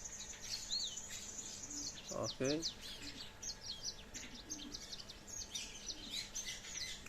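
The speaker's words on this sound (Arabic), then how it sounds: "طيور مغردة الكناري" Caged canaries chirp and trill steadily throughout, with bright rapid song phrases, while someone speaks briefly in the middle.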